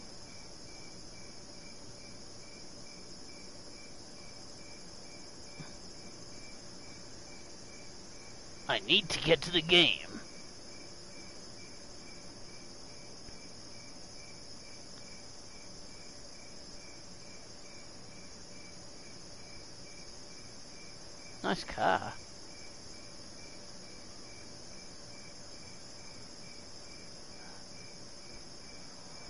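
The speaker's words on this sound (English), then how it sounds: "Generic cricket sound" Steady, faint cricket chirring in a quiet outdoor scene from the PlayStation 4 game Football Game, running continuously while two short bursts of speech break in.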